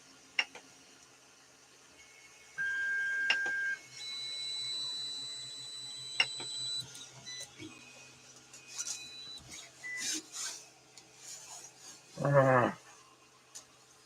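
A printer runs quietly, its motor giving sustained whining tones that shift in pitch, with scattered clicks and ticks and a brief louder buzzing burst toward the end.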